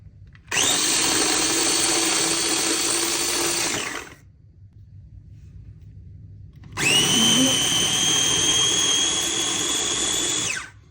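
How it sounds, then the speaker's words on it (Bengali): An electric blender grinding onion runs in two loud, steady bursts of high whine of about three and a half and four seconds each, separated by a short quiet pause. "এখন হলো পেঁয়াজটাও ব্লেন্ড করে নিয়েছি"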